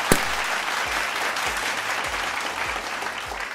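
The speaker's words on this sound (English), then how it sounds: "Please join me in a virtual round of applause for the leadership and support of these great partners recognizing our students." A round of applause at the All-Arizona Academic Awards 2022 student recognition ceremony: continuous, even crowd clapping sustained throughout, with a brief sharp onset at the start and faint low thumps underneath.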